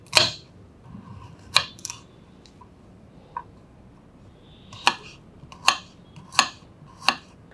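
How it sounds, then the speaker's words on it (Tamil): A knife chopping a carrot on a board, sharp separate cuts with pauses, then a steadier run of five evenly spaced chops, close and loud with no talking. "இந்த கேரட் கேரட்டை வந்து நம்ம கட் பண்ணிக்கலாம்"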